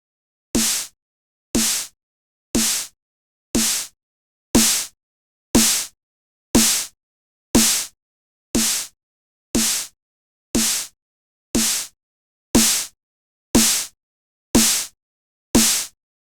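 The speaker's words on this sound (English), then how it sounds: "the same snare sound where one uses compression to achieve greater loudness and one uses saturation" A punchy snare drum hits alone, sixteen times at a steady one-per-second pace, each crack sharp and dense with a quick decay.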